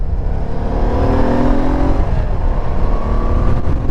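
A 1980s motorbike with a stainless steel exhaust runs steadily close by, a buzzy, thin, scooter-like engine note holding loud and even throughout with slight pitch wavers.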